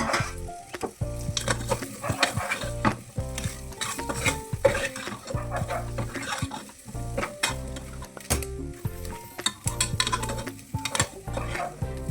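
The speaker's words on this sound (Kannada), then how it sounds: "ಫ್ರೈ ಮಾಡ್ಕೊತೀನಿ" Spiced food frying and sizzling in a pan in a home kitchen, with frequent loud stirring scrapes and clinks of a utensil against the pan over a continuous sizzle, close up and with no speech.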